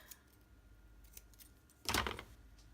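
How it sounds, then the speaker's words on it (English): Scissors snip through strips of tear-and-tape while a gift ribbon is being wrapped, one short crisp cut standing out clearly against a quiet room, with faint small clicks before it. "I'm going to cut another two pieces of tear and tape"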